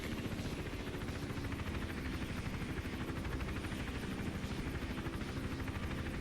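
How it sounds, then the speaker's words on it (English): A helicopter's rotor in Hitman: Absolution drones steadily throughout, a continuous rhythmic chopping hum at even loudness with no voices. "And then it's just another wait as the helicopter comes back."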